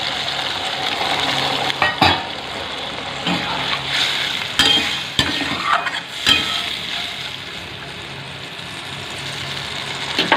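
Sizzling and frying from a pan of chickpea curry as water is added, with steady close hiss and crackle broken by a few sharp stirring clinks and scrapes.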